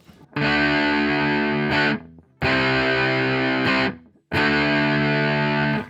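Electric guitar on the bridge pickup through a TC Electronic Honey Pot fuzz pedal, three long, loud, trashy fuzzed chords, each sustained over a second and cut off with a short gap between.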